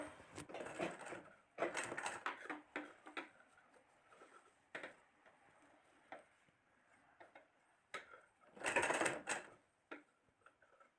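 Sewing machine stitching a small pajama waistband, running in short bursts of rapid mechanical clatter separated by quiet pauses, with one longer loud burst near the end.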